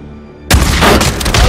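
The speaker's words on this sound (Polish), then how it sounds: "Wybuchowa beczka." An explosive barrel blown up in the video game Days Gone, a single sudden loud blast that cuts in after near silence and fills the rest of the clip with a dense, rumbling roar and crackle.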